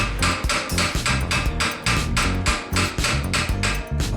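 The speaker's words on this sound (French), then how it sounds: "Pour déposer le disque, frappez avec un marteau sans endommager la surface du disque." A hammer strikes a car brake disc on a Jaguar XJ40 (Daimler) during bearing removal, about a dozen loud, close metallic blows falling in a steady rhythm with no talk.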